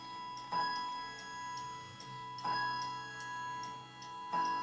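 A clock strikes the hour with three evenly spaced, ringing chime strokes about two seconds apart, each tone lingering and fading before the next, heard quietly in a calm room.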